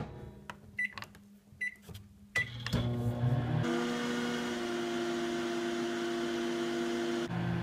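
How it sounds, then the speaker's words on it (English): A microwave oven runs while heating candy-kit pretzels, its steady drone and hum starting after a few faint clicks and beeps, continuing evenly and close by until a brief change near the end. "Here's my pretzels, and we're gonna microwave it for 20 seconds."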